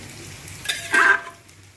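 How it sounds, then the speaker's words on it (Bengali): Onion frying in a pan while being stirred, a faint sizzle with two short scraping stir strokes close by, otherwise quiet. "পেঁয়াজটা ভাজা হচ্ছে"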